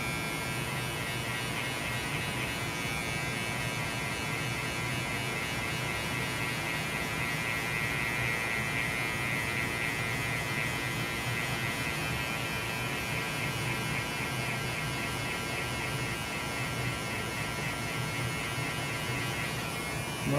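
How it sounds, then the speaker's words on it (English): Babyliss electric hair clippers cut hair for a burst fade, giving a steady close buzzing hum that runs unbroken and even the whole way through, with no voices. "Now I'm gonna use my Babyliss and I'm gonna set my first guideline."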